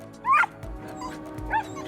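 A dog playing in snow gives two short yipping, whimpering vocalizations close by, separated by a brief pause.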